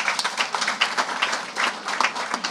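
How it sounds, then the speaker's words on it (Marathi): An audience at a Marathi political gathering claps steadily in a dense burst of applause for a couple of seconds, with a few faint voices mixed in. "आपणही त्यांचं जोरात टाळ्या वाजवून अभिनंदन करावं"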